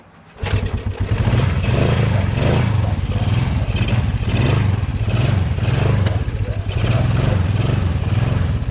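A small engine with a straight pipe exhaust starts up after a quiet moment and then runs loud and close, its rough, throbbing exhaust note rising and falling in a steady pulse.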